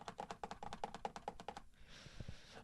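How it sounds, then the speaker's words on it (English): Rapid, evenly spaced keystrokes clatter on a computer keyboard for about a second and a half, close and crisp, then stop abruptly, leaving faint room noise and a couple of soft taps. "There's guys in there typing."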